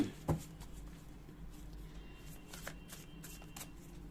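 Tarot cards are shuffled by hand, a soft, steady riffling that stays faint and close, with a slightly louder snap near the start.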